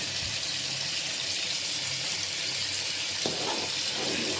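Chicken curry with potatoes sizzles and bubbles steadily in a pan after cumin powder goes in, a constant close hiss of frying with a faint stir partway through.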